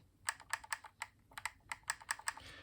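Old paddle buttons on a Razer Wolverine V2 Chroma controller clicking, about a dozen sharp, close clicks in quick irregular bursts, sometimes doubled.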